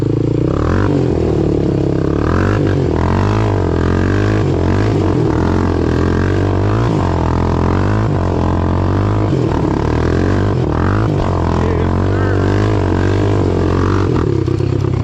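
A 2006 Honda 300EX ATV runs steadily through off-road woods trails, its engine droning loud and close for the whole stretch with rhythmic revving swells and clattering rattles from the machine and terrain.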